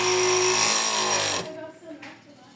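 A sewing machine stitches the side seam of a bra top with a loud, steady whirring run of about a second and a half, then stops abruptly, leaving quieter handling noise.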